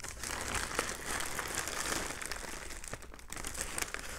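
Papers and items are pulled from a mail envelope, giving a close, quiet run of paper crinkling and rustling that goes on steadily without pause, with no talking.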